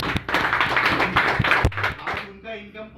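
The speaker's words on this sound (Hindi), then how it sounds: "एक बार जोरदार ताली मारिए।" An audience at a Himmatnagar business meeting claps loudly for a senior member, sharp irregular claps rising over a crowd and mixed with voices, then fading into a quieter tonal hum near the end.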